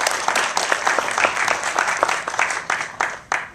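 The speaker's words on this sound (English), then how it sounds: "Give him a round of applause." Applause from a screening audience welcoming the director before a post-film Q&A, brisk irregular clapping from a modest crowd with individual sharp claps standing out as it tapers.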